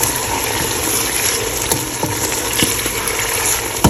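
Ginger garlic paste frying in a pan for chicken curry, a dense steady sizzle with occasional soft scraping and stirring clicks, close and fairly loud with no voices.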